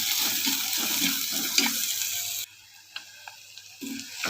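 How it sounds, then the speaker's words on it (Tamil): Small onions sautéing in a pan for a village-style fried kuzhambu: a loud, steady sizzle with stirring for about two seconds, then a drop to near quiet with a few faint clicks before the sizzle returns at the end. "வெங்காயம் நல்லா வதங்கிருச்சு."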